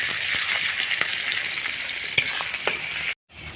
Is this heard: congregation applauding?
no